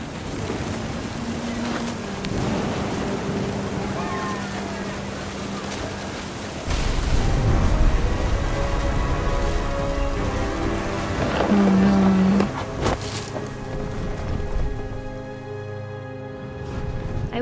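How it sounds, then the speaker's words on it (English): Rain and thunder in the video game What Remains of Edith Finch: steady rainfall and wind with a rolling thunder swell in the middle, mixed under background music and sustained tones. "The thunder sounded much too close and full of angry power."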